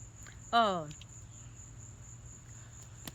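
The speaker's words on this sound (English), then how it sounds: "these bugs trying to mess me up now" Crickets or similar bugs chirp outdoors as a steady, thin, high drone throughout, with a brief voiced sound near the start.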